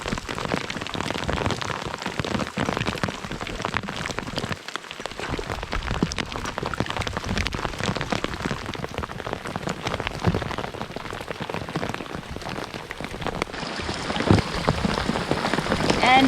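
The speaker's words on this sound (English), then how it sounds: "And it's raining again." Steady rain pours onto a river in the Canadian wilderness, a dense continuous patter and hiss of drops striking water that holds an even level throughout.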